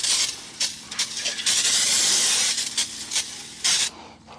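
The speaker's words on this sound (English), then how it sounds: "Make sure to go ahead and clean it with some brake cleaner." Brake cleaner sprays in short and long hissing bursts onto the front brake parts of a first-generation Honda Ridgeline, loud and close, with one sustained blast in the middle.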